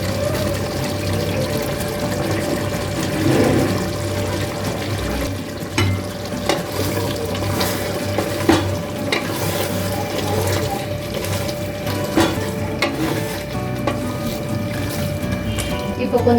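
Chopped green chilli and tomato sizzle and are stirred in a pan while cooking chicken biryani, a steady close frying hiss with scraping, heard under a person talking.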